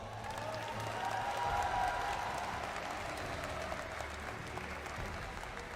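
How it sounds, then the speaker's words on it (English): Steady applause from a large esports crowd at the M5 World Championship fills the space, a continuous wash of clapping that swells slightly and then holds. "Can we give them a round of applause?"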